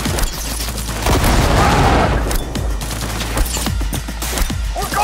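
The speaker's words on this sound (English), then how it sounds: "A fucking grenade!" A grenade going off in Cyberpunk 2077 amid a firefight, a loud booming blast swelling mid-clip between close bursts of gunfire and combat noise.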